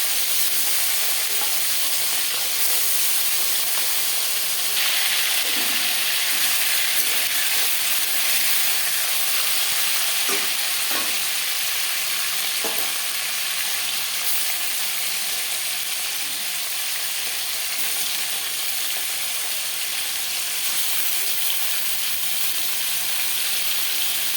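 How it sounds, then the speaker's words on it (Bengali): Hilsa fish pieces fry lightly in hot oil, a dense, loud, continuous sizzle and hiss that holds steady throughout with a few faint stirring knocks and no voices. "আর দিয়ে দেবো মাছ খুব বেশি ভাজবো না হালকা করে ভেজে নেবো"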